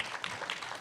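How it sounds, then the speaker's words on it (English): Brief burst of audience applause at a storytelling event, soft and fairly distant, a dense wash of many hands clapping with no talking. "I'm going to ask the audience to join me in giving them a big round of applause."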